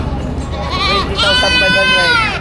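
Goats bleating loudly nearby at a livestock market, a few overlapping wavering cries, with people talking underneath.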